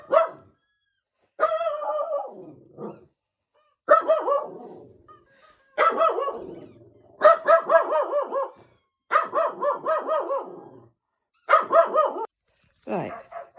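A Jack Russell terrier barks in repeated bursts of sharp, yappy barks and growly yips, close and loud, separated by short pauses, with a person talking briefly.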